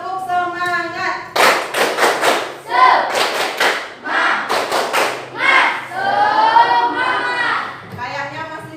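Classroom of children doing a rhythmic 'tepuk semangat' spirit clap, with bursts of quick, loud patterned claps in groups alternating with chanted speech from the class and a teacher's voice.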